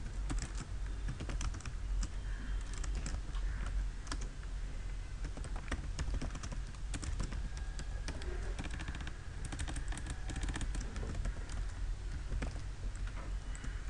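Computer keys clatter steadily in close, rapid bursts as a page title is typed, continuous for the whole stretch over a faint background hiss, with no talking.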